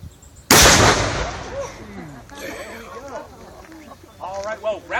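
A historic gun at Fort Erie fires one sharp, loud blast whose boom rolls away over the next second, followed by people talking nearby.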